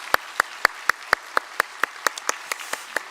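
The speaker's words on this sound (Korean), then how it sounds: "우리 박수로 환영하겠습니다." Korean church congregation clapping in unison at a Sunday worship service to welcome new members, crisp clear claps in a steady, even beat, about a dozen in a row, close and distinct with no speech.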